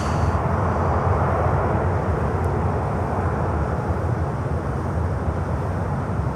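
An Alaska Airlines Boeing 737 MAX 9 at Miami, a loud, steady jet roar that fills the whole stretch with constant broadband engine noise, no talk over it.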